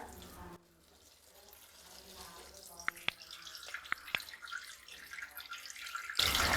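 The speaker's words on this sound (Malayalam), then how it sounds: "കൂടെ തന്നെ ഇനി വെള്ളം ഒഴിച്ചു കൊടുക്കാം." Water is poured over flattened rice in a sieve, a soft running trickle with a few sharp drips and splashes in a quiet kitchen, ending in a louder gush.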